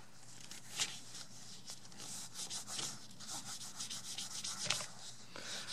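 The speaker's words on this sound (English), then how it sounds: "It's just minimum amount of polishing" Hand polishing a metal plated item with a cloth, soft repeated rubbing and scrubbing strokes in an uneven rhythm, close but quiet.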